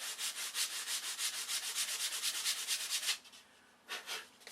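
Hand sanding with a sanding block, rapid rhythmic back-and-forth scratching strokes, close and loud, pausing briefly before a few more strokes resume.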